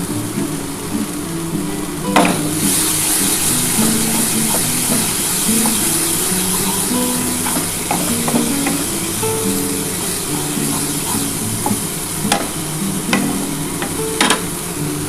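Cumin and coriander seeds frying in a pan while being stirred, a loud continuous sizzle and hiss with scraping stirs and occasional sharp clinks of the utensil, close up and without speech.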